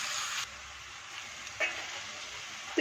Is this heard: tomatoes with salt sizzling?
yes